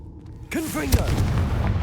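Confringo, an explosive spell in the wizarding game Hogwarts Legacy, goes off after a quiet start as a sudden blast with a whooshing, swirling tail and a deep thump, close and fairly loud.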